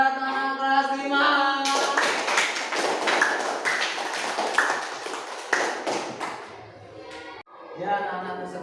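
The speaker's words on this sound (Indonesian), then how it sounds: "Kasih tepuk tangan buat anak kelas 5." A grade 5 class clapping in a classroom, a burst of many hands applauding together for several seconds, close and lively, with a voice talking before and after.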